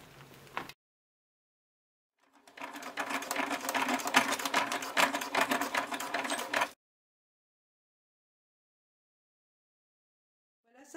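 A sewing machine stitches clear PVC vinyl for a pouch, running in one steady rapid whirring burst of about four seconds, close and alone, after a brief sound at the start.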